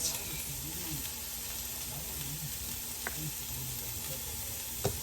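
Grated ginger and a generous amount of garlic fry in a pan with a steady, close sizzle throughout, a faint low voice murmuring underneath and a couple of brief clicks from stirring.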